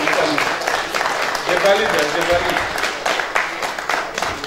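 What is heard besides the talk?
audience applause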